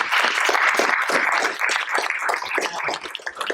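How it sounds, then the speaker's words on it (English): An audience applauds panelists at a university alumni panel event, dense steady clapping from a full room, loud and sustained throughout with no voices over it. "So if we could give our panelists a round of applause."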